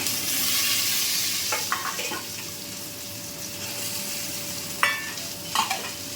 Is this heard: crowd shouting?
no